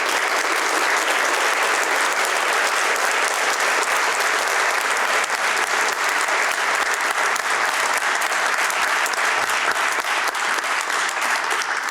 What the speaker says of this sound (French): Je propose d'applaudir et de nous applaudir.